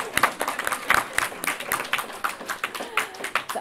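College students at an orientation session clap in a modest, uneven burst, with individual sharp hand claps standing out and a few voices murmuring underneath.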